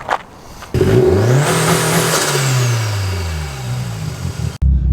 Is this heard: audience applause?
no